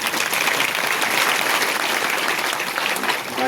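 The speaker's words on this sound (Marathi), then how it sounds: "एकदा जोरात ज्यांना हात आहेत त्यांनी टाळ्या" A large audience at a Marathi devotional kirtan gathering claps loudly and continuously, a dense steady wash of applause filling the whole stretch without pause.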